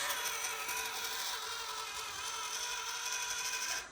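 A Kyosho mini RC crawler drives slowly in reverse, its small motor and gearbox giving a steady, close high-pitched whir that holds evenly for about four seconds before cutting off, with the gearbox and axles binding slightly.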